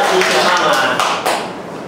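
Applause from a classroom audience of parents and pupils during a school lesson, a dense steady clatter of clapping that tapers off slightly toward the end, close and loud.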